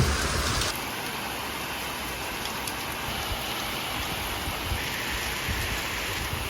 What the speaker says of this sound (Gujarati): પતરા ઉપર પાણી પડે